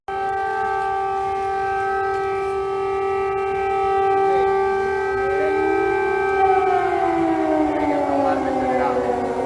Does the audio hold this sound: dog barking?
no